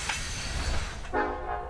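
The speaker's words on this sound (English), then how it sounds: "The NS Wabash Heritage Locomotive passes south through Hackery, Ohio, with a grain train" A Norfolk Southern Wabash heritage locomotive hauls a grain train south through Hackery, Ohio, on former Detroit, Toledo and Ironton track: a steady rolling rumble of wheels and cars, then a loud horn blast near the end.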